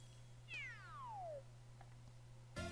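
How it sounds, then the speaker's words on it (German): A cat meows once in Super Mario Maker 2, a clear falling electronic-sounding mew standing alone over a steady low game hum, followed by a brief bright chime at the end. "Miau."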